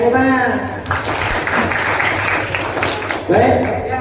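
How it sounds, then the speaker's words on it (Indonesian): Applause rises from a group at a school counselling training session, a few seconds of steady clapping bracketed by a person speaking before and after. "Tepuk tangan"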